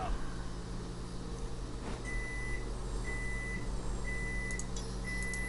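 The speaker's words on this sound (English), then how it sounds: "microwave going off" A microwave oven beeps repeatedly, short evenly spaced tones over a steady hum and background noise.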